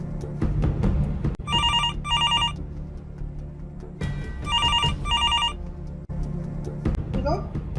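A telephone bell rings in two double bursts separated by a pause, heard indoors under a low rumbling music bed and ambient noise in a Hindi horror thriller scene.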